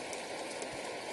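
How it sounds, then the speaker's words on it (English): Rain falls steadily outdoors, a dense, even hiss of drops spread across the whole short stretch with no voices. "as long as it's raining, as long as there's water"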